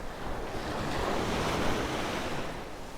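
Sea waves washing onto a beach at Manavgat, Antalya, on a fairly calm day, a steady broad surf wash with gentle swells and some wind noise, continuous and close, with no voices.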